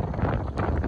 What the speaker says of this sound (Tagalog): Nadidig na ba ng lahat ang lakas ng simoy ng hangin?